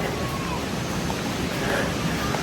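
Strong wind roars steadily outdoors, a loud, unbroken rush of noise that buffets the microphone for the whole moment.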